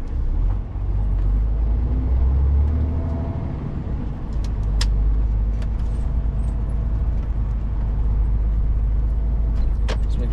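Close, steady low rumble of a truck with a trailer driving at night as it slows and takes a right turn at a roundabout, with faint clicks and rattles in the cab.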